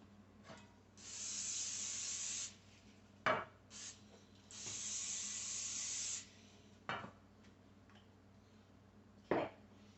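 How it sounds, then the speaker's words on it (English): Several hissing spray bursts, each lasting a second or more, separated by short pauses and a few soft knocks, close by and fairly quiet. "I'm just going to put on some cooking spray"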